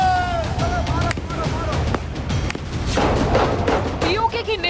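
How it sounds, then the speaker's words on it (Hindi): Gunfire in a news report on protests in Pakistan-administered Kashmir cracks in repeated sharp bursts and booms, with voices and commotion mixed in throughout. "बेगुनाहों पर गोलियां बरसा रहा मुल्ला मुनीर, आखिर क्या चाह रहा?"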